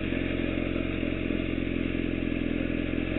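Motorcycle idling steadily as the clutch is slowly released with no throttle, the bike just beginning to roll during a basic riding lesson; a constant low engine drone with faint mechanical clatter, close and unbroken throughout.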